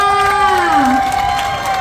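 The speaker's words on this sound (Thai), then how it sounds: "เสียงปรบมือดังๆให้อายุทยาจ้า" Crowd at a Red Cross fair at Bang Pa-in cheers and shouts after a performance, with a sustained high voice call and some clapping under it, loud and brief.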